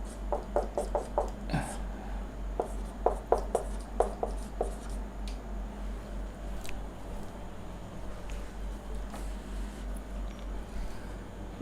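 A teacher writes out a physics question by hand, with a run of quick, rhythmic tapping and scratching strokes up front that thin into sparser, fainter marks over a steady low hum.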